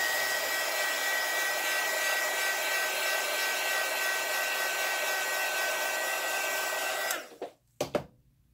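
A hair dryer blows steadily and loudly at close range over an alcohol ink flower painting for about seven seconds, then cuts off, followed by a few brief handling knocks.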